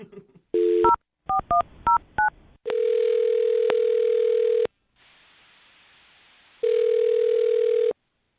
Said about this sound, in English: I'll dial her phone number right now and see if we can find out why she ditched you